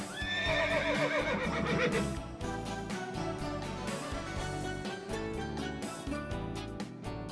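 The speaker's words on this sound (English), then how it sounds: "Horse." A horse neighs loudly and clearly, its whinny rising and falling over the first two seconds, with steady rhythmic hoof clip-clops continuing after.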